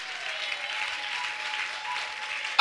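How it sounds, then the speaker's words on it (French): A church congregation applauds at a Sunday service, a steady dense wash of clapping from many hands that holds evenly throughout, with a faint sustained tone running beneath it and a sharp louder burst right at the end. "Acclame bien pour moi."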